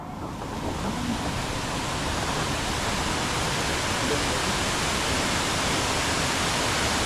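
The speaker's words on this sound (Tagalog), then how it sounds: "Ari pa ang isang falls. Ang ganda, laki." A large forest waterfall roars in a steady, loud, broadband wash of falling water, unbroken from start to finish and heard close.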